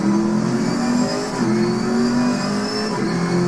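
A GT4 race car engine in Assetto Corsa Competizione on PS5 revs loudly and continuously up close, pitch climbing and dipping through gear shifts, with no voices over it.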